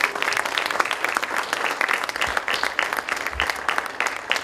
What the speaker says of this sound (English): Can we give a huge round of applause for our students?